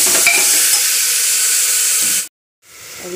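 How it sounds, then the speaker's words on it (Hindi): Cauliflower lightly frying in a pan for arhar dal, a loud close sizzle with stirring scrapes throughout, then a sudden brief silence before the hiss returns more softly. "अब इसमें हम गोभी फ्राई कर रहे हैं हल्का"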